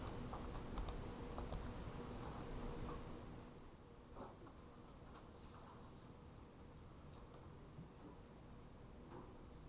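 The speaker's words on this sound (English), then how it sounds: "if we were to type that into our calculator" Buttons pressed on a calculator keypad in a quiet room: a scattering of faint, light clicks and taps, some in quick runs, over a thin steady electronic whine.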